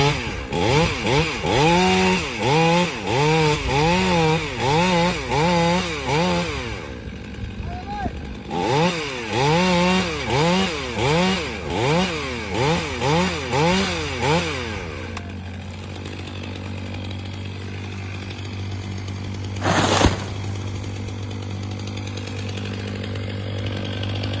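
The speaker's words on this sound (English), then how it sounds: "He started the chainsaw. The saw blade roared, screeching into the blackened tree trunk" A chainsaw revs and roars in repeated bursts, its pitch rising and falling as it bites into a blackened tree trunk in a snowy forest, then settles to a steady idle with a brief sharp burst.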